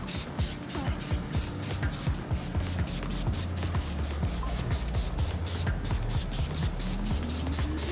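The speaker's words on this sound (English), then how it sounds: "you just want to spray it on the panel and let it sit for 5 minutes" P&S Crystal Wash is sprayed onto a car panel in quick, rhythmic bursts of hissing trigger spray, loud and close, repeating steadily with no talking.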